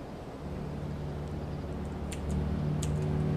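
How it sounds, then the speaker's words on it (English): A quiet boat horn in the video game Transport Fever 2 sounds as a low, soft, sustained hum that swells slightly louder midway, heard faintly over a steady background rumble with no speech. "That is the quietest horn I've ever heard."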